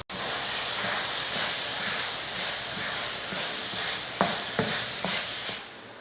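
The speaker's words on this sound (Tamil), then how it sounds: "இப்போ இதில் ரைஸ் போட்டுடலாம்." Rice being added to a pan of sautéed coriander masala and stirred, a steady broadband sizzle with scraping spoon strokes and a few sharp clinks near the end, close and moderately loud.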